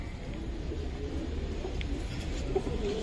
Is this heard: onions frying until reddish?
no